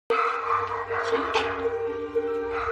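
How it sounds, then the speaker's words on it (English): Dogs in a rescue kennel, with a close, loud dog barking and yipping in repeated short bursts over a continuous hum of the kennel room. "they can hear all these dogs barking"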